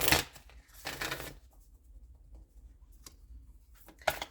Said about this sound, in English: I'm shuffling on my lap because I don't want to mess up these cards on the table.